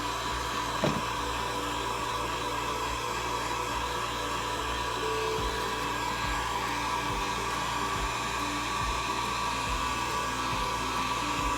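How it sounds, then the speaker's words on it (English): A hair dryer or similar handheld blower runs continuously at an even pitch, a steady whirring rush close to the listener, with no speech over it. "Does this sound like a blow dryer to anybody?"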